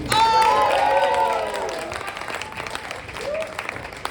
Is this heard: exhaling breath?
no